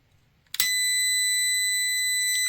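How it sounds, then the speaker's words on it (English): A steady electronic continuity beep from a PeakTech P 3710 meter with a pure high tone, starting after a brief click and holding unbroken for about two seconds, close and clear. "it's beeping because it's close to continuity"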